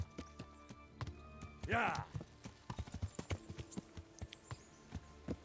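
Horse hooves clip-clop at a steady, rhythmic walking pace in the video game Kingdom Come Deliverance, with a brief snort or whinny near the start and a voice speaking briefly over it.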